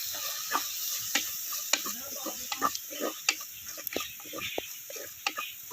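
Chili powder fries in a pan for sardine curry while a spoon stirs it, giving soft sizzling and irregular clinks and scrapes of the utensil against the pan. The sound is close and gentle.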